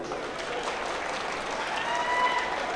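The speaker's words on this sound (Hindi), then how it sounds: "एक बार आप सब लोग अपने लिए ताली बजा दें" An audience at a mushaira poetry gathering in Paharpur, Azamgarh claps in a dense, sustained round of applause, loud and continuous throughout, with some crowd noise mixed in.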